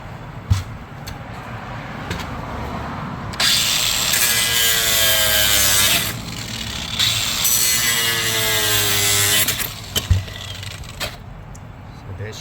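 A hand saw cuts a notch into the plastic radio mounting panel of a 2010 Volvo V50 during a stereo install, giving close, scratchy back-and-forth strokes with brief pauses and knocks between them.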